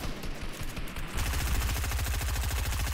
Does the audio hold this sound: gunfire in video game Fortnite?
yes